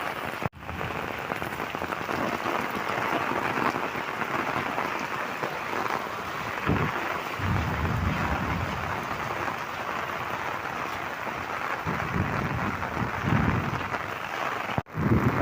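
Heavy rain pours down outside in a steady, loud, dense hiss of drops on surfaces, continuing unbroken for the whole stretch.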